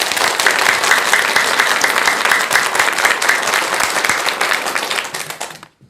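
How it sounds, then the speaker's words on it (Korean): An audience at a Buddhist monk's lecture gives a big round of applause, dense and sustained clapping from many hands that fades out at the end. "전국의 대덕 큰 스님들께 감사하는 마음으로 큰 박수 한번 주시기 바랍니다."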